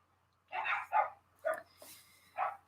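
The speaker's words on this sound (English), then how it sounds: "And dogs are barking in the background." Dogs bark in the background, a few distinct, medium-loud barks in an uneven sequence, with a brief whine-like sound between them, all heard at some distance.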